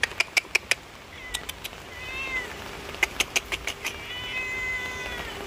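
A cat meows repeatedly during a rainy day, several drawn-out, rising and falling cries close by, interspersed with sharp clicking taps and a steady soft background hiss.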